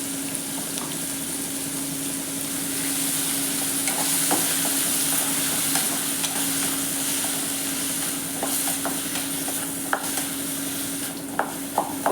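Capsicum frying in a pan with salt, stirred steadily under a constant sizzle, with scattered soft scrapes and clicks of the spoon and no talking.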